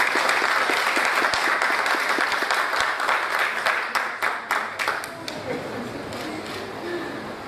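Audience applause at a formal awards and honours ceremony, a steady wash of clapping from a crowd with some sharper individual claps, tapering slightly toward the end, with faint voices underneath.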